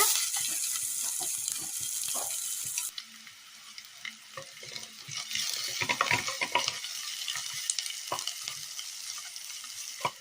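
Chopped onion frying in hot oil with mustard seeds, giving a steady close hiss and sizzle broken by occasional stirring scrapes and soft clatters, with no talk.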